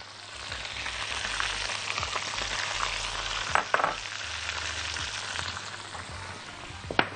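Garlic cloves and onion frying in fresh butter in a pan, a steady close sizzle throughout with a couple of brief stirring knocks.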